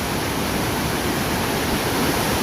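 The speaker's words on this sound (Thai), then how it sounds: "โอ้น้ำแรงมาก" Steady rushing water, a loud continuous roar like a fast stream close by, with no other sounds.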